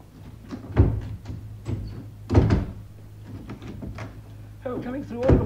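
Heavy security door in an old 1973 drama scene, heard as two loud thuds about 1.6 seconds apart with a fainter bump later, under a steady hum and faint voices.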